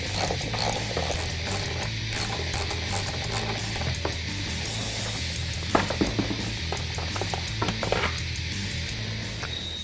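Ratchet wrench on the chin spoiler nuts of a 2011-2014 Ford F-150 3.5L EcoBoost, a steady run of fast close clicking with a few louder mechanical knocks and no speech.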